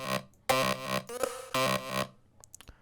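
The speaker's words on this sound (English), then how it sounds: "Which is a lead on Serum." A bright, buzzy supersaw lead synth from Serum plays a short, choppy phrase of loud stabs and held notes with distorted effects, ending in a few scattered clicks.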